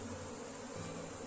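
Bees buzz steadily around an open beehive during beekeeping work, a dense continuous drone of many insects close by, with no talking.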